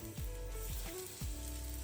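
Pomfret fish pieces laid one by one into hot oil in a pan on high heat, giving a steady close sizzle of frying, with a few soft thumps and louder bursts as each piece goes in.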